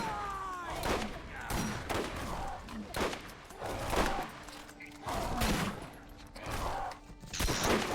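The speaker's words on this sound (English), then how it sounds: "This thing is essentially just a combat shotgun" Combat shotgun blasts in the video game Borderlands, a string of loud, sharp shots fired at an uneven pace amid busy game effects.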